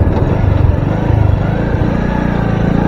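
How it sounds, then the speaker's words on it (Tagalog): Motorcycle engine running close by near a river, a loud low chugging rumble that holds steady throughout with a rough, pulsing rhythm. "sinakyan yung motor niya."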